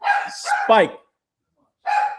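Dogs bark in short bursts, a couple of quick yips followed by a pause and then another bark, loud and close.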